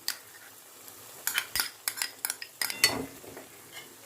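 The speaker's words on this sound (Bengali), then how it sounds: "আলুটাকে এবার আরও 2-3 মিনিট কষে নেব" Potatoes for aloo dum being stir-fried in a pan with a little water, heard as a series of close, irregular metallic scrapes and clinks of a spoon against the pan, with no voices.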